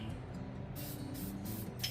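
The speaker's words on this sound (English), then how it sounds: "spray it so you see a little bit of copper. Just kind of like any other spray paint." Copper spray gasket sealant hissing from an aerosol can onto an Opel CIH short block engine, heard as several short, fairly close bursts of spray in quick succession over a low background hum.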